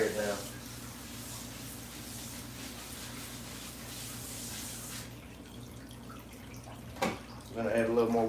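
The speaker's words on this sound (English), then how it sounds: "And spray it down." A steady hiss of water spraying runs for several seconds, then cuts off, followed by a brief clunk and a short voice.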